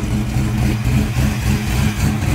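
A Foxbody Ford Mustang engine runs loud and close, with a steady deep rumble that holds at an even revving pitch throughout, and no voices.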